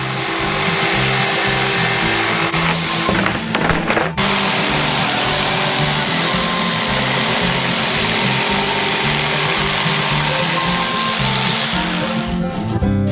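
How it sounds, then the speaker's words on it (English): An electric jigsaw cuts out a large drawn shape for a giant Bounty bar mould, producing a loud, continuous buzzing drone that falters briefly early on, then runs steadily close by until it stops at the end. "Now we just need to cut it out with an electric jigsaw."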